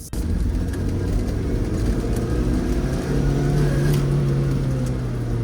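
A 2006 Mazda MX5 NC1 fitted with an induction kit accelerates hard in second gear from about 20 mph, heard from inside the cabin as a loud, steady engine drone whose pitch climbs with the revs.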